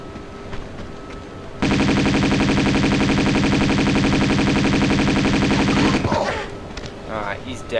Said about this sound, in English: So let's get the Uzis ready.